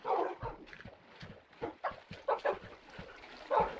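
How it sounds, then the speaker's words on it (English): Tamed wolves in a video game whimper and yip softly, a faint scatter of short whines and yelps repeating irregularly with no speech. "This is where I keep my puppies."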